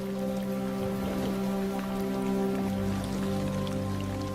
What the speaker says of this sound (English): As the rains roll in,